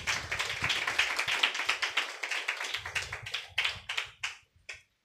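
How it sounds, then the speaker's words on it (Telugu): A church congregation at a Sunday service claps hands during a sermon, a dense run of overlapping claps that thins into scattered individual claps and fades out, no voices heard. "చప్పట్లు కొట్టండి"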